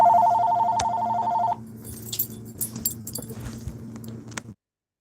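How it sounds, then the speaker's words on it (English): A telephone rings indoors with a bright, steady electronic warble for about a second and a half, then stops, followed by faint clinks and handling noises close by. "The phone was ringing"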